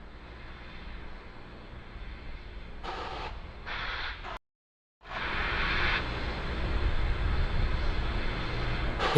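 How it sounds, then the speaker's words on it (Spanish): SpaceX Falcon 9 rocket at Cape Canaveral venting through its valves before a Starlink launch, a steady broad hiss and rumble that drops out briefly midway, then returns louder and continues to the end. "Me encanta el ruido de las válvulas."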